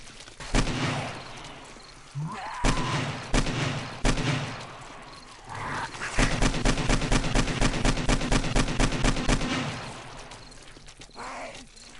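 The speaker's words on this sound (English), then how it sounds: "We're breaking out the AK for this jackass." Rapid AK rifle fire from the video game 7 Days to Die: a few loud separate shots, then a long, steady burst of repeated fire. Other in-game noise is faint underneath, and no one speaks.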